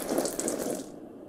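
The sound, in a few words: water running while watering plants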